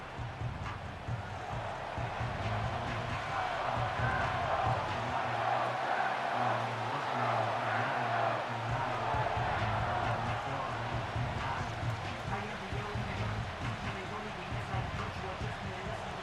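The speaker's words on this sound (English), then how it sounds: "This crowd doing everything they can before 3rd and goal." A football stadium crowd at a New Orleans Saints vs Green Bay Packers night game roars in a steady, dense wall of noise while an announcer speaks over it.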